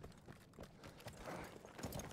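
Faint clip-clop of horse hooves in Battlefield 1, a soft uneven trot of several hoofbeats in quiet game ambience.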